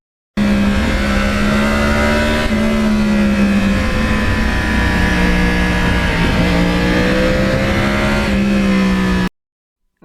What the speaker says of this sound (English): the sound of that crossplane is very, very unique